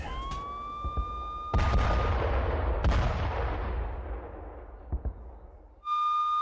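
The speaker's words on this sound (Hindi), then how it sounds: "हिजबुल्लाह के वेपन डिपो पर हमला किया है।" A strike on a Hezbollah weapons depot lands as a deep blast, with a second boom and a long rumbling roll that slowly fades, while a wailing siren tone sounds before the impact and returns at the end.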